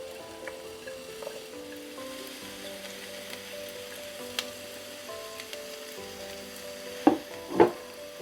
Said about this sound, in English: Over medium heat on a skillet, I added some oil, and then once it's nice and hot, I'm going to add in the onions and also the celeries.